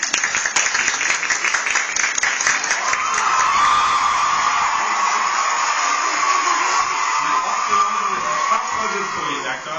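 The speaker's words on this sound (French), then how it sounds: "vous pouvez applaudir de temps en temps si vous voulez" Studio audience at a French television show claps loudly, then the noise blends into sustained cheering and whooping from the crowd that carries on at full volume.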